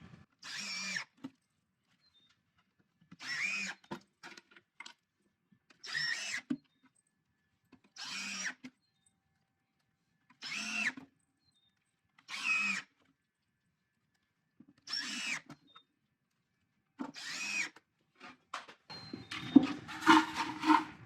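A power drill driving 1.5-inch screws into scrap wood for a homemade washer toss game, eight separate short whirring bursts spaced a few seconds apart, close and clear with silence between.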